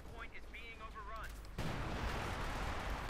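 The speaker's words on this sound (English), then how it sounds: "Artillery strike from the Major" Artillery strike in Company of Heroes 2, a sudden dense broadband roar of shelling and gunfire that erupts halfway through and rumbles on steadily, preceded by a voice and faint battlefield noise.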